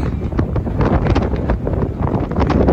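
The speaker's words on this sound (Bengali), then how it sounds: "বাতাসের জন্যে পানির কাছে যাওয়া যাচ্ছে না" Strong, cold wind on the beach at Coney Island, Brooklyn, New York, buffets the microphone in continuous loud gusty rumbles, roaring without pause throughout.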